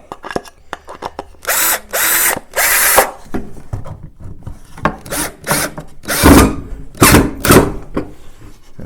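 A power drill whirs in several short bursts while driving screws to fasten a hold-down on a radial arm saw, loud and close, with wooden rubbing and knocks between bursts.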